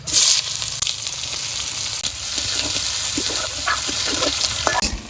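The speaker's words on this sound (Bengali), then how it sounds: "পেঁয়াজ ভাজতে নিয়েছি" Onions sizzle and crackle in hot oil, with a steady frying hiss, occasional scrapes and stirs, and light clinks near the pan.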